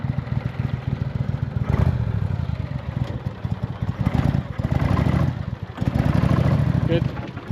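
A jet ski motor on Gulf water revs in repeated surges, rising and falling loudly close by, with clattering mechanical texture and voices heard around it.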